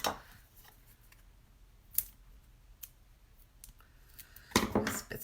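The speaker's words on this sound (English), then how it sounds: "I bought these little kind of Teflon coated scissors because the adhesive won't stick to it." Small Teflon-coated scissors cut a sheet of paper in half, heard as a few faint, sparse snips and clicks against quiet room tone, with a louder rustle of paper handling near the end.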